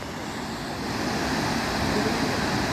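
Gaganchukki waterfall in Karnataka sends up a steady, dense roar of rushing water, loud and unbroken with no voices over it.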